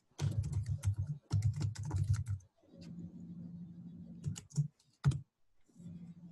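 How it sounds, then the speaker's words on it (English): Rapid bursts of typing on a computer keyboard, close and crisp, come in clusters of clicking keystrokes separated by short pauses, with a quieter low hum in the gaps. "Here, I'll just type it in the thing."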